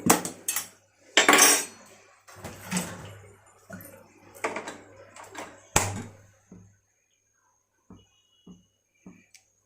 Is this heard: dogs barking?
no